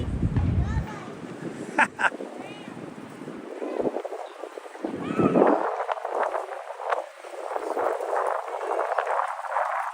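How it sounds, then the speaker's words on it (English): Gusty wind buffeting a microphone outdoors on a Manhattan street on a cold March day, with uneven rushing and rumbling bursts that rise and fall, and short spoken exclamations in between. "Ooh, that wind."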